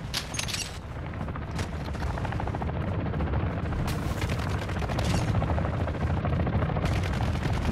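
Helicopter in the video game Call of Duty: Modern Warfare II, a dense, continuous rotor thrum mixed with rapid gunfire bursts, loud and sustained throughout.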